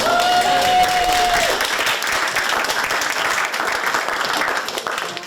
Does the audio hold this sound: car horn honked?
no